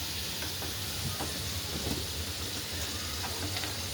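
Finger chips frying in hot oil, a dense steady sizzle and crackle close up, with faint stirring or scooping scrapes as pieces are lifted out, no talking.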